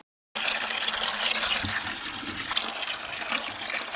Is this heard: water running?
yes